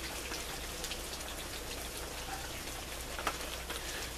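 Steady rain falls and patters on surfaces, a dense, even hiss with scattered louder droplets, close and moderately loud with no voices.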